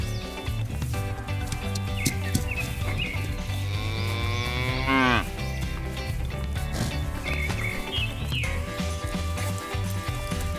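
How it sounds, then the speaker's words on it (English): Dairy cows moo several times, with long drawn-out calls over a steady backing of music on a farm scene; one prominent low moo sits in the middle. "Now, let's bring our lovely dairy cows home to their new farm."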